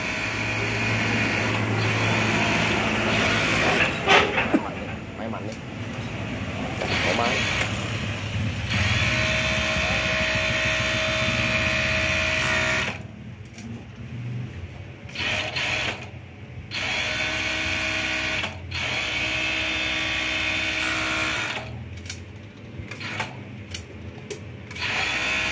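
A Juki MO-6816D 2-needle 5-thread overlock sewing machine runs at high speed with a loud, steady mechanical whir. In the second half it stops and restarts a few times in short bursts.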